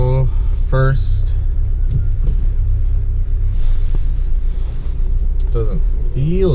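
Low, steady engine and road rumble inside a moving 9th gen Honda Civic Si, constant and close, with people talking briefly over the drone near the start and end.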